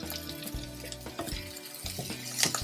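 Omelette mixture being stirred in a pan with paprika and coriander, soft scraping and light sizzling strokes, quiet and close, with a sharper clink near the end.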